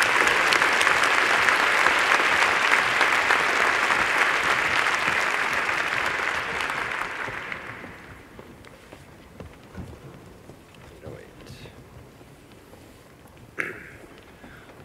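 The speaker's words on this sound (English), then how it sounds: "Please join me in a round of applause to the graduating class." A large audience at a university graduation ceremony applauds the graduating class, a loud dense roar of clapping that fades out over about eight seconds into a quiet hall with scattered faint noises.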